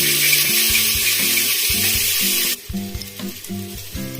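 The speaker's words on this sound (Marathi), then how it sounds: "आता मी ह्याच्यात टोमॅटो टाकते आता हे सगळं मिक्स करून घेऊ आपण" Tomato, ginger-garlic paste and curry leaves fry and get stirred in a pan, a loud steady sizzle broken by scraping stirs, then the sizzle drops sharply halfway as the stirring continues.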